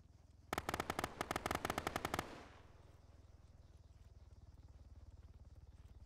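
Rapid automatic gunfire from a video game, a loud burst of closely spaced shots lasting under two seconds over a steady low background hum.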